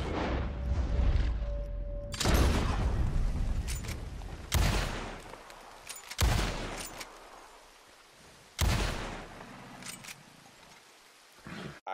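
Repeater rifle shots in Red Dead Redemption 2, fired one at a time across a marsh: five sharp, loud cracks spaced a couple of seconds apart, each trailing off into a long rumbling echo.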